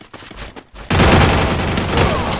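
Rapid gunfire in a 4v4 online shooter game bursts in loud and sustained after a brief quieter opening, a dense fusillade of overlapping shots close to the listener.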